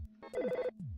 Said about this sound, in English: So now the phone rings.